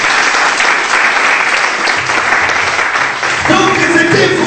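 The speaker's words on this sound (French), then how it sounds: "Applaudissez un peu le Seigneur" A church congregation applauding during a French-language sermon, loud dense clapping filling the space, with voices rising under the claps toward the end.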